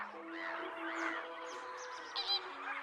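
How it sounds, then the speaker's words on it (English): Lesser and greater flamingos in a large flock on an East African soda lake: a continuous faint chorus of overlapping honking, goose-like calls, with no voices. "Flamingos use vocal and visual displays to communicate and alert the group to danger."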